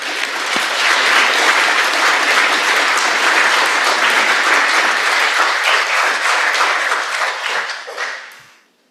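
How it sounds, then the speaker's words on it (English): Applause from a lecture audience swells quickly into loud, sustained clapping, holds strong for several seconds, then tapers and fades out to silence at the end. "please give her a round of applause"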